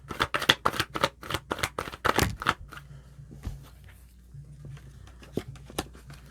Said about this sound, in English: We have cards flying everywhere.